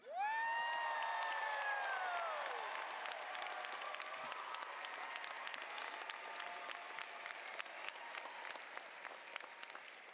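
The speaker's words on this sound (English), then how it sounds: "can we get one big round of applause?" Applause and cheering from a crowd at a university journalism and communications commencement ceremony, opening with loud high whoops and shouts over dense clapping, then settling into sustained applause that slowly fades.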